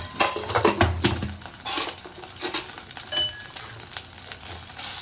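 Mutton pulao being sautéed with chili powder, coriander powder and garam masala: steady sizzling in the pot with repeated scraping and clattering of a metal spoon, close and fairly loud.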